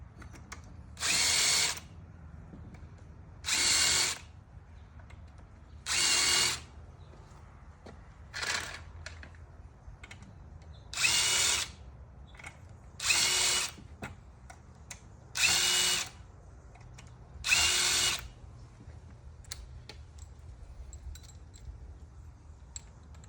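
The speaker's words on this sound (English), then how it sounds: "got one of these self-centering drill bits" A cordless drill with a self-centering bit drives into material in eight short bursts of roughly a second each, loud whining spins separated by brief quiet pauses, close up.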